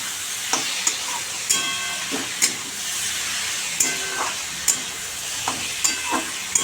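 Pumpkin, bean and sweet potato curry cooks in a pan with a steady sizzle, while a spoon stirs and scrapes it in repeated sharp strokes. No one speaks.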